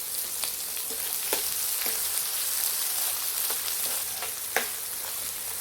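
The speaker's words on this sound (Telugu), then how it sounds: "వీటిని బ్రౌన్ కలర్ వచ్చే వరకు ఫ్రై చేసుకోవాలండి" Onion pieces and green chillies fry in a pan for a chicken curry, giving a steady loud sizzle with a few sharp stirring clicks scattered through, no voices.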